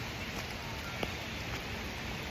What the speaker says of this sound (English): let's play in the rain